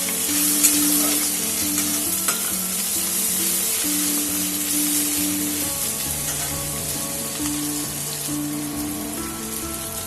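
Onion fries in oil with whole garam masala for an Indian malai egg dish, a loud, steady sizzle with crackling bursts and occasional stirring scrapes, with no talk.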